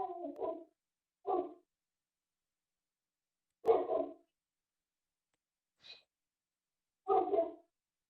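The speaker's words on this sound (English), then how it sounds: "An enjoyable amount of barking." A dog barks in short, separate bursts, about four loud barks spaced irregularly with silence between, plus a faint brief yip, close and alone.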